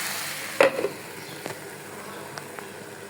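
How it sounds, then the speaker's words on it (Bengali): Water spinach frying in a pan, a soft steady sizzle with a sharp clatter near the start and a few faint ticks afterward, no voices. "এই কলমি শাকটি এখন আমি ভাজা বসিয়ে দিয়েছি"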